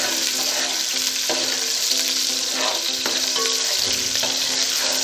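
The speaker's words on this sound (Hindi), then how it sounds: "अब हम इसमें ऐड करेंगे ये प्याज, जो मीडियम साइज के इस तरह से कट कर लिए थे" Medium-cut chopped onions fry in hot oil for chana pulao, a loud continuous close sizzle with occasional stirring clinks and scrapes throughout.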